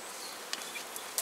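Honeybees from a swarm caught by a beekeeper buzz steadily at close range, faint and continuous, with a few brief sharper passes as single bees fly near.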